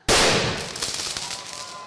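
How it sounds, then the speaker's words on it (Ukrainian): A single loud cannon blast opening a school military-patriotic game, with a sharp onset, followed by a long rumbling decay and echo, with crackling debris-like noise trailing off. "Постріл з гармати"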